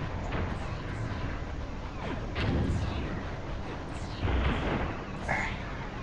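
Laser weapons fire in the space combat game Space Pirates and Zombies, a steady wash of crackling, booming blasts with repeated bursts and zaps layered over continuous battle noise at moderate level.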